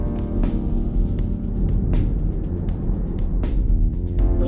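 VW ID.4 electric car driving, a steady low rumble of road and cabin noise with a few brief clicks and knocks, continuous and fairly loud throughout.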